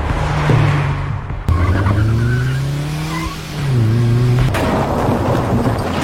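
A car skids and crashes in a film scene, loud tire squeals sweeping up and down over engine roar, broken by sharp impact thuds near the start and again later.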